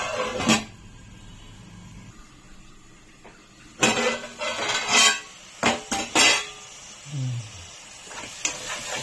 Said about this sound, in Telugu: స్టవ్ని సిమ్లో పెట్టుకుని మూత వేసుకుందాం